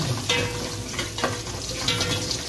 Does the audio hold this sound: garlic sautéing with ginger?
yes